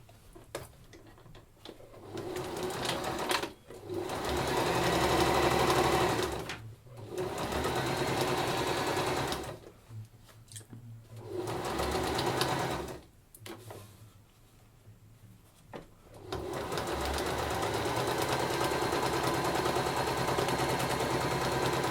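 A domestic sewing machine stitches the seam of a drawstring bag in several loud, steady runs of rapid whirring, separated by short pauses, with a long continuous stretch at the end.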